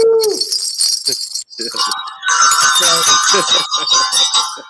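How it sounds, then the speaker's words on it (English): Antique horse bells jingle and tinkle with a bright metallic shimmer, shaken in bursts that swell into a dense, loud ringing, with a few brief voice sounds early on. "Oh my God, Marlon, please tell us about these horse bells."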